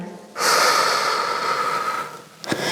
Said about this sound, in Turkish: Ve enseni sıkıştırmadan ve nefes ver bakalım tekrar.